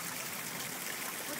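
Rainwater running through a drain during heavy summer rain, a steady close rush and trickle of flowing water with no clear speech.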